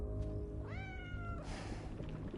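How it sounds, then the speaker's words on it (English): A cat meows once in Death Stranding 2, a clear rising-then-falling mew standing out over a low steady game ambience, close and distinct. "Also, Chiral Kitty is best kitty"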